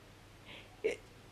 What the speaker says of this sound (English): Mummy's got the hiccups